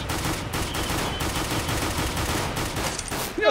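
Gunfire in Counter-Strike: Global Offensive: dense, rapid automatic bursts crackle close and loud without a break for a few seconds.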